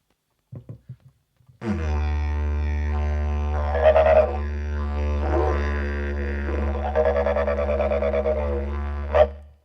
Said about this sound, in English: It's an Indigenous Australian instrument.